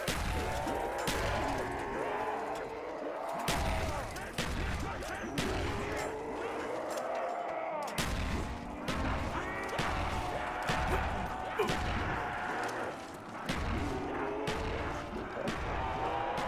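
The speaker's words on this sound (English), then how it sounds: "What's with all the explosions?" Explosions in a zombies video game crack out as repeated sharp, loud booms and blasts over busy game noise for the whole stretch, with a voice talking underneath.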